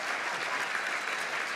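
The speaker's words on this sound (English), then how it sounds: "I think that might have been applauding age there" Steady, dense applause from a large audience at the White House Correspondents' Dinner, continuous and even throughout with no pauses or voices on top.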